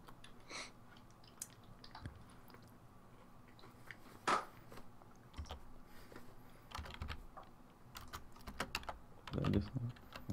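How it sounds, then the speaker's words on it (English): Someone types one-handed on a computer keyboard during a game of Garry's Mod Prop Hunt, irregular close clicks and key taps scattered across the stretch with occasional louder clacks and faint background noise. "You're one hand typing."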